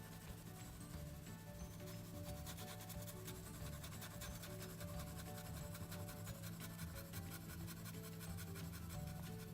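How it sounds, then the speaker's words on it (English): Steady soft rubbing and scratching of pencil graphite on paper, continuous and close, with faint rhythmic strokes throughout. "I'm just going to use the pencil quite flat against the paper"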